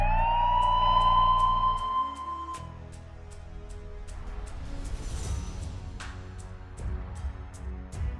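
Ambulance siren with its wailing tone rising and holding, then giving way to a rumbling vehicle and rhythmic clicking, all fairly loud and close.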